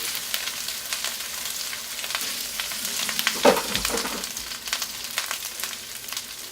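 Steady crackling sizzle of rice frying in a hot wok, with a brief louder scrape of stirring midway; no talk.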